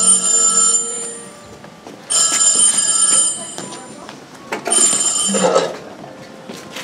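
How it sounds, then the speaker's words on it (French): An old interior telephone bell in a château rings in bursts, three loud ringing spells separated by pauses, with voices speaking over and between the rings. "Eugène Aubert, lui, venait d'installer au château le premier téléphone intérieur"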